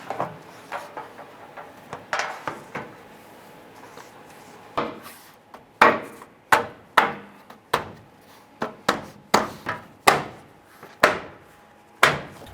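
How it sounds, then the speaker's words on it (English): Plastic push clips on the bottom of a step pad snap into notches on a 2002-2008 Dodge Ram 1500 rear bumper, giving a string of sharp, separate clicks and knocks close by at an uneven pace. "install all of our little push clips that are on the bottom of the step pad into the notches on the bumper itself"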